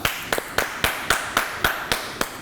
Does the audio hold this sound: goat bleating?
no